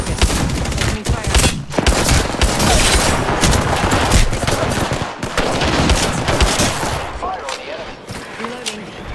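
Dense automatic gunfire rattles through a battle in the video game Apex Legends, loud bursts and near-continuous shots overlapping with game voice lines before thinning out toward the end.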